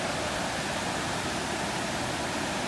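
Water pours from a lake down through an outlet in a stone wall, forming a small waterfall. Its constant, dense rushing roar is close and steady with no pauses.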